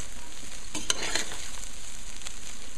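Basmati rice with oil and seasoning sizzles steadily in a pan while being stirred, with a few louder scraping strokes in the first second over continuous close frying hiss.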